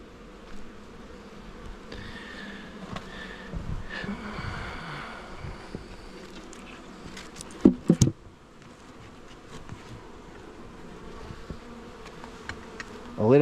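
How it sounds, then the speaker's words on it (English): Wasps and bees buzz steadily around an attacked, weak nuc hive outdoors, a faint continuous insect drone with individual wingbeats passing close, a few sharp knocks in between. "I'll let them slug it out with the wasps for the night"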